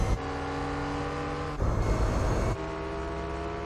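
Race car engine in Gran Turismo 4 at a steady high drone. Another car whooshes past a TVR midway, and the engine tone shifts as it goes by, loud and continuous with no talk.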